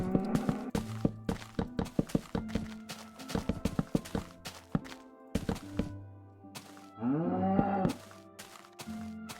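A Minecraft cow moos in a long drawn-out call, set among a string of sharp repeated thunks and hits that come close and loud throughout.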